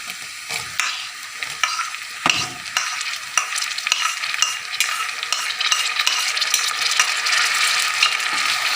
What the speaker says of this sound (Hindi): तो फिर हम इसमें टमाटर ऐड करेंगे